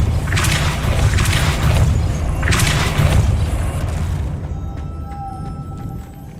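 The Depulso force spell firing in Hogwarts Legacy, heard as three heavy, booming blasts in a row at close range, with the rumble thinning out to a quiet tail afterward.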